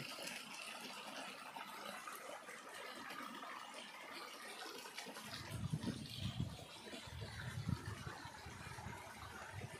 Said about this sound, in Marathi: हा नाला नसून डोंगरावरून वाहणारं पाणी आहे